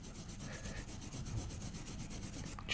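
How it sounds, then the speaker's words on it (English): A fine brush scrubs carbon off a part from the starter motor of a 1965 Toyota FJ45 during a rebuild, making a soft, continuous rhythmic rubbing at close range with no voices. "with a bit of a fine brush, we're just going to clean all this up quickly"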